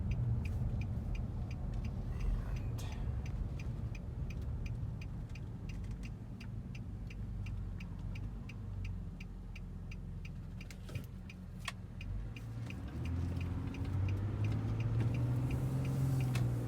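2012 Nissan Frontier PRO-4X pickup engine at low speed and low RPM, heard from inside the cab: a quiet, steady low rumble with faint regular ticking, like a turn signal, and light road noise.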